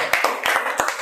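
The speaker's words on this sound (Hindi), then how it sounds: "एक ताली बजा सकते हैं" A church congregation at a Wednesday service claps hands in a short burst of several sharp, slightly uneven claps, close and crisp, with a faint murmur of voices between them.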